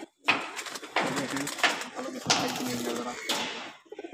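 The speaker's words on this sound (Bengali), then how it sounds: "আর ওই পাশে দেখতেছি ভাই একজোড়া কালদম কবুতর।" A pair of Kaldom pigeons give soft, low cooing calls in several short bursts, close by, mixed with people talking nearby.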